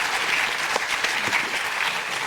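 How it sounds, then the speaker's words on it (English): Audience applause at an inter-school science quiz competition, a steady, dense wash of clapping from a large room that carries on evenly for the whole short stretch. "Audience, please applaud for them."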